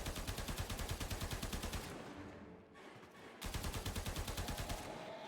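Rapid automatic gunfire in Warframe aimed at a hive, a dense rhythmic stream of shots that pauses briefly and then resumes at the same fast pace, loud and close.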